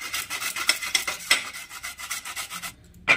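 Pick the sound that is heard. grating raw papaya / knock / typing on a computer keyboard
grating raw papaya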